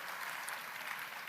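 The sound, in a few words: audience applause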